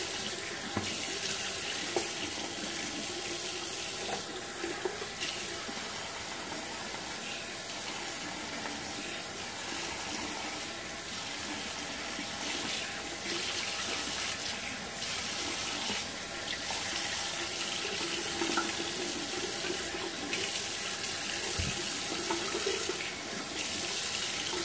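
A tap runs steadily while hair is wetted under it, a constant close hiss of flowing water with faint splashing changes, no voices throughout.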